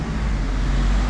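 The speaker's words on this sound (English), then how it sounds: "main road, cars pretty packed together, a lot of scooters around" Busy main road in the Greek beach town of Agios Gordios, with cars packed together and scooters passing, a dense close rumble of engines and tyres that stays loud and continuous.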